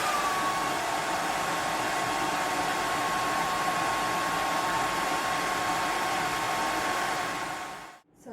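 A hair dryer fitted with a diffuser drying curly hair, a steady, loud, close whooshing roar with a faint whine that runs unbroken, then cuts out briefly and starts again at the very end.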